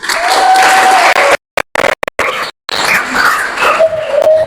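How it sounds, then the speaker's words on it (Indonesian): Students in a small-group classroom lesson clap loudly together, the applause broken by brief gaps and mixed with a few voices. "Oke, betul, tepuk tangan."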